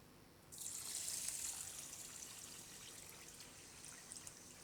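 Water poured onto sugar in a pan for syrup, a sudden steady splashing stream that starts after a quiet moment and gradually softens while still running.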